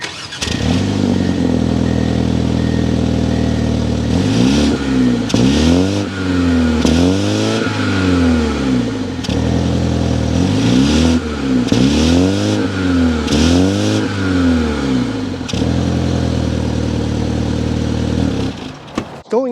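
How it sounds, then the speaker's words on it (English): A 2023 BMW 228i Gran Coupe starts up and idles, then its engine is revved repeatedly, loud rising and falling exhaust blasts in a series of short bursts close to the car. "so you can hear that exhaust note"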